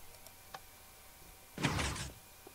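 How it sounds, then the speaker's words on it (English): Redstone-powered doors in Minecraft slide open with a single short mechanical rush of sound, close and fairly loud, after a quiet stretch with a few faint clicks. "It's just doors."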